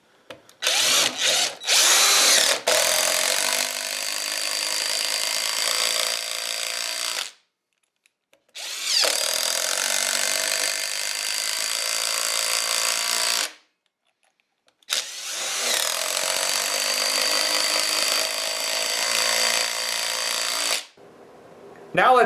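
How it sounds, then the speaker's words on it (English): A RIDGID Gen5X R86035 impact driver with a 1/2-inch impact socket drives 3-inch lag screws into a pressure-treated post in three long, loud bursts of hammering and whirring, with brief pauses between runs. "I'm going to drive 3 3-inch lag screws into this pressure treated post"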